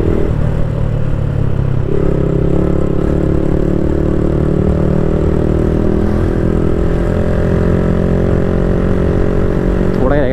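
A motorcycle engine drones steadily during a ride, loud and constant from start to finish, with only slight shifts in pitch.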